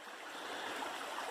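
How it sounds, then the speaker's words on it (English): A creek along the Appalachian Trail rushes and splashes steadily in a constant, close wash of running water with no voices. "Beautiful creek."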